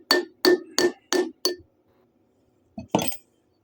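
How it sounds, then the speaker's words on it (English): Five sharp metallic hammer blows in a steady rhythm on a tight-fitting part of a Magnum 5.2L V8 going into a 1969 Dodge Dart, ringing with a clinking tone, then a pause and two more quick strikes. "Shitty hammer."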